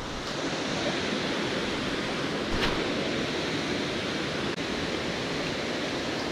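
Steady broadband rushing of a waterfall at a fishing spot in Tennessee, a continuous even roar with faint wind, no voices, unchanging throughout.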